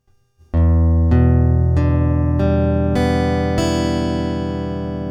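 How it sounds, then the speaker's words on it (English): Guitar chord strummed slowly one string at a time: six distinct notes enter in an even sequence from low to high and layer into a ringing chord that sustains, close and clear with no talking. "I want you to try strumming the strings through slowly so you can hear"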